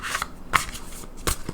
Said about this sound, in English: Just gonna shuffle a bit more.